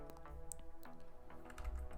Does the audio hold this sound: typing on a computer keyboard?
yes